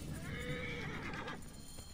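A horse whinnies in the video game Assassin's Creed Origins over a steady background of game music and ambience, with faint hoofbeats underneath.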